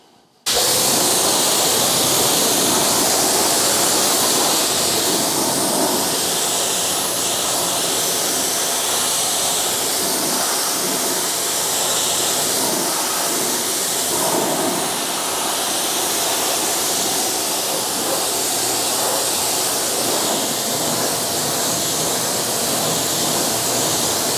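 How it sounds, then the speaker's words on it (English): An AR630 TSS pressure washer sprays water onto a car in a steady, loud hissing rush that runs unbroken and close throughout, with no voices. "It's been a few months now since I have been using my new AR630 TSS pressure washer."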